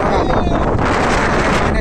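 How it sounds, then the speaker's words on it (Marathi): Strong wind buffets the microphone in loud, continuous gusts, a roaring rush with a faint voice beneath it, on a trek at Ghangad Fort during a storm. "इथं शूट नाही करता आलं वारा वगैरे चालू आहे"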